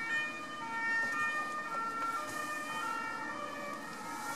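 A fire engine siren wails steadily in the distance, a sustained tonal sweep held at moderate level over faint road noise, with no voices.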